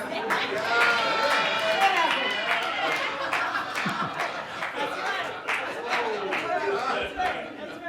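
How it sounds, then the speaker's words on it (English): Rowdy audience at a design presentation and book signing, a loud sustained hubbub of overlapping chatter, laughter and scattered claps filling the room throughout. "This is a rowdy crowd."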